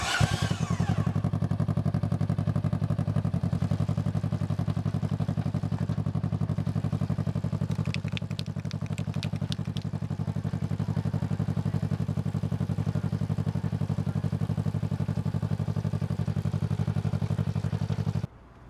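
A four-wheeler ATV, jacked up with its tires off the ground, idles in gear while the axle spins. The engine drones steadily and loud throughout, with a brief light rattle midway, before cutting off at the end.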